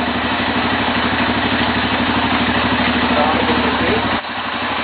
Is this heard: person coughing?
no